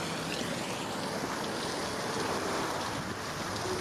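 Water flows steadily outdoors in Zurich, a continuous broad rushing wash at constant loudness with no pauses or voices.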